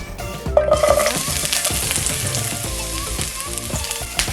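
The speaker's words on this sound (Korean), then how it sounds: "마늘 기름이 나올 정도로 볶아주세요" Sliced garlic fries in sesame oil in a pan, a loud continuous close-up sizzle with faint stirring scrapes throughout, beginning after a brief quieter moment.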